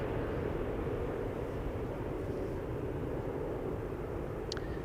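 Airbus A319 taking off from Schiphol's Polderbaan runway bound for Oslo: a steady, distant broadband jet engine roar that stays even throughout, with no voices.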